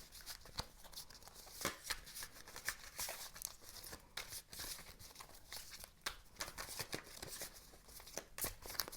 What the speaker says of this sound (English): gonna shuffle some more cards